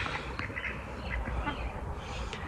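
Several ducks quack in a loose, overlapping chatter at close range, with steady background noise.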